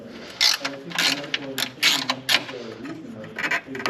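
A hand ratchet clicks in short bursts while loosening bolts on a 2016-2018 Chevrolet Camaro SS headlight, giving a close, rhythmic pawl rasp with brief pauses between strokes.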